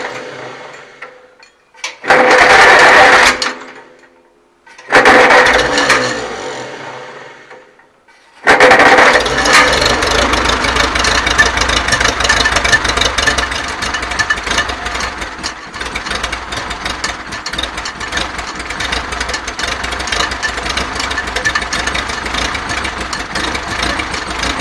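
A 1948 IH Farmall Cub tractor engine cranks in two short bursts, then catches and settles into a steady, loud idle with a rough, even putter that continues to the end.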